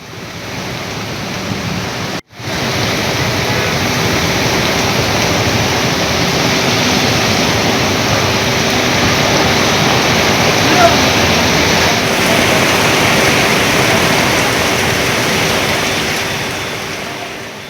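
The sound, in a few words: heavy rain pouring, floodwater running on roads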